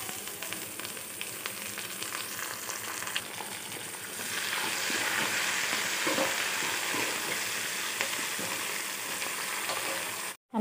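Curry leaves hit hot oil with lightly browned onions for uggani, setting off a loud hissing sizzle that swells midway and crackles steadily in the pan.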